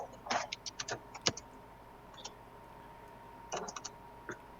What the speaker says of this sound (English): I hear typing